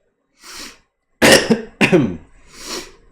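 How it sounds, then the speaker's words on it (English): Several coughs in close succession, near and fairly loud, with a softer throaty cough before and after; no talking. "I have that cough too"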